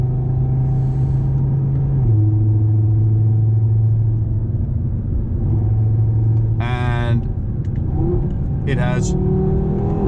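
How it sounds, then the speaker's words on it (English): A tuned 610-horsepower Audi TT with very high turbo boost accelerates loudly, its engine note holding steady and then climbing in steps as the boost comes in, with a person talking over it throughout. "a very high turbo boost, so you have a bit of a turbo gap, a bit of lag, and then the turbo kicks in"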